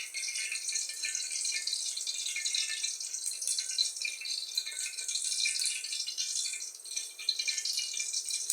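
Chopped onions hit hot oil in a cooking pan for kaleji masala, giving a steady, close, bright sizzle and crackle that holds for several seconds with no talking.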